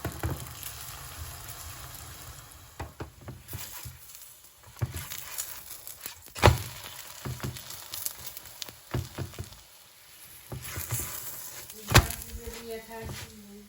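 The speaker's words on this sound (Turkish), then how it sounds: "Kızartalım bakalım" Oil sizzles and crackles steadily with occasional louder pops and clatters of utensils, a close, busy frying sound of gözleme cooking in a pan.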